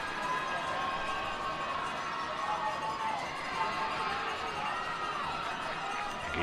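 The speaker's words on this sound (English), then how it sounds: "Topper crowd getting loud." Football stadium crowd at a West Liberty University home game against Concord, a steady broad roar swelling loud and sustained throughout, with no clear voices standing out.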